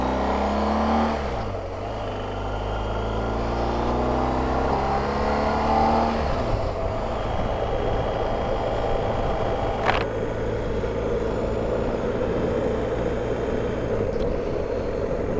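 A BMW GS1250 motorcycle pulls away, its engine revving up through several gear changes. The rider accelerates steadily, and the engine hum and road noise stay loud and continuous throughout.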